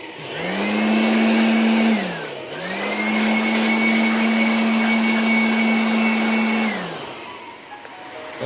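A powered blower roars steadily while blasting dust out of a Panasonic air conditioner during cleaning, running loud and close in two long bursts with a brief dip between them, and no voices.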